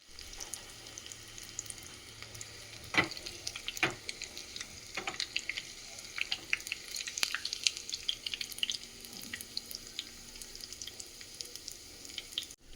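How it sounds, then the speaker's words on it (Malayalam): Mustard seeds fry in a small pan of hot oil for tempering, giving quiet, scattered crackles and sharp pops over a soft sizzle, with no talking. "ഇനി ഒരു ചെറിയ ചീന ഇത് ചട്ടി എടുത്തിട്ട് അതിലേക്ക് നമ്മൾ കടുക് ഇറക്കാൻ പോകുക"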